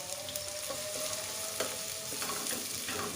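Chopped onions sizzle steadily in a pan while bhindi masala is cooked, a continuous close frying hiss with a few soft stirring scrapes and no voices.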